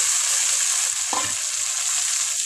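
Onions and tomato frying in a pan for a drumstick sambar, a steady close hiss of sizzling oil throughout, with a brief stir or clatter near the middle and no talk.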